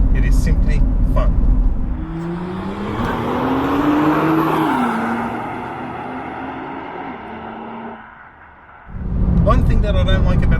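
A 2020 Nissan GT-R with a titanium exhaust accelerates hard, its engine note climbing steadily and then dropping at a gear change before fading. Road and wind noise fill the background, and someone talks near the start and end.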